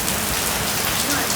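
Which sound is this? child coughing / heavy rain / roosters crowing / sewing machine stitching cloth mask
heavy rain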